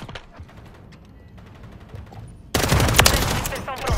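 Gunfire in Call of Duty MW3 starts with scattered quieter shots, then turns into a sudden loud, dense burst of automatic fire and explosions that continues to the end, with some game voice chatter underneath.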